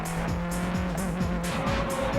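Race cars at the start of a Japanese GT race, a loud pack of engines roaring together with repeated quick pitch drops as cars pass close by and brief tire squeal, continuous throughout.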